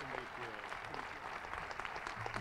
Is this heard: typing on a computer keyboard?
no